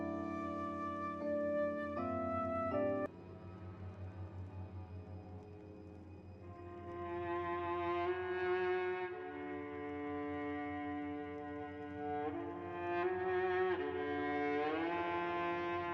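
Intro music of The Magnus Archives horror podcast, a quiet, eerie melodic sequence of sustained tones and shifting notes that builds gradually, heard alone without talking.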